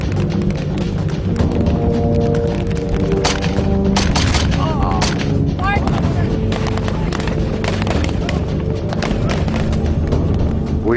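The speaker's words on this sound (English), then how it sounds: "Still facing a barrage of German gunfire" Dense German gunfire barrage on the D-Day beaches, with rapid cracks and booming explosions over a constant heavy rumble, loud and continuous throughout.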